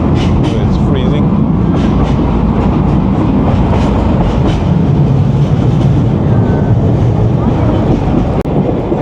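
An open-air train carriage near Kyoto rolls along the rails, giving a loud, steady roar of wheels and wind with faint rhythmic clicks throughout.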